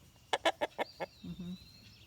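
A guinea fowl gives a quick series of five sharp, rhythmic calls close by, followed by a couple of lower clucks and a faint thin whistle in a quiet backyard setting.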